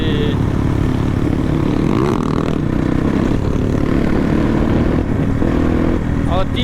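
Three dirt bike engines roar loudly nearby, rising and falling as throttles are worked, with people talking over the noise.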